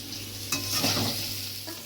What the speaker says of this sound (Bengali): আলুটাও কিন্তু আমার ভাজা হয়ে এসছে